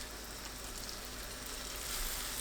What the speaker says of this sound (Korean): 식용유 두른팬을 예열하고 예열되면 약불로 낮춰 반죽을 얇게 펼칩니다.